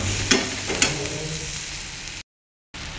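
Onion, coriander and masala sauté in a pan for a spicy onion chutney. Two sharp spatula taps come early over a steady, moderate sizzle, then a short silent gap.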